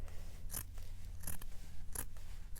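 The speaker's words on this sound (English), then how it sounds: "I'm just going to take my scissors" Scissors snipping through craft material at a Valentine gnome project, four crisp, evenly spaced cuts over a low steady background hum, close and fairly quiet.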